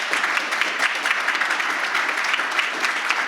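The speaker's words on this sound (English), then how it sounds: "Can we give the panel a big round of applause?" Audience applause for a business panel on selling a company, steady dense clapping from a crowd without pause, loud and fairly close.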